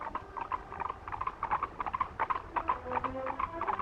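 Hooves of a four-in-hand, four horses drawing a coach, clip-clop in a quick, steady patter at moderate distance, with a faint background hiss and no talking.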